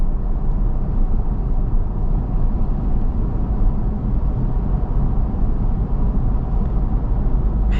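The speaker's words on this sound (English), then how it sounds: "There is a bit of noise from these tires. It's not bad, but you hear them." Steady broadband roar of tire noise inside a 2025 Toyota 4Runner SR5 while driving, a constant rumbling hiss with no breaks and no talking.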